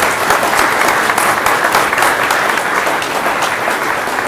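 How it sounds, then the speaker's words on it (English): Sustained audience applause at a candidate forum held by a business and professional women's group, dense steady clapping from a room of people, close and loud, with no talk over it. "please give these good folks a round of applause."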